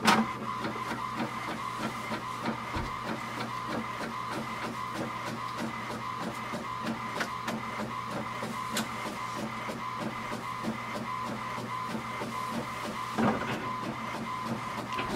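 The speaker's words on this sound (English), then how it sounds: "Now it will print a page, so that will take a few seconds." An HP Envy 5075 all-in-one inkjet printer prints a page, running steadily for several seconds, a continuous mechanical whir with rhythmic carriage clicks and a brief louder clunk near the end, with no talking.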